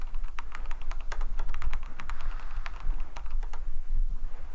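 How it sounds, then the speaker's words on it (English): Keyboard typing in The Complex: Expedition, with rapid, irregular clicks of keys, close and crisp over a low background hum, with no talking. "Suddenly, I miss that keyboard typing."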